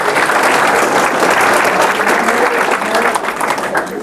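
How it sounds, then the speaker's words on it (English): Applause from staff at a workplace staff meeting welcoming a new hire: a loud, sustained crowd of clapping hands filling the whole stretch without a break. "Let's give her a round of applause"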